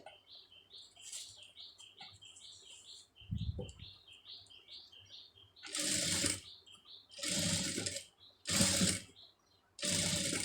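A sewing machine stitching a two-layer lace design onto a sleeve runs in several loud, short bursts, after a stretch of quiet repetitive high chirping.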